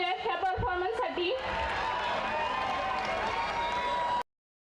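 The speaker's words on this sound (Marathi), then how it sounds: "आता जोरदार टाळ्या झाल्या पाहिजेत ह्या परफॉर्मन्ससाठी." An audience at a college engineering cultural festival bursts into loud, dense applause and crowd noise that follows a brief voice over the microphone, then cuts off abruptly.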